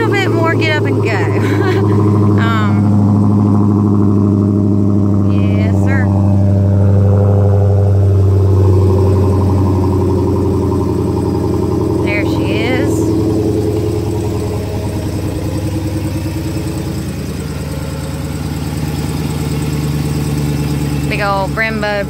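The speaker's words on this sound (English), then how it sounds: "I'm going to activate the remote start for you so you can hear it run." Remote-started 2015 Dodge Hellcat engine idling with a steady, deep rumble that continues under intermittent conversation from people nearby.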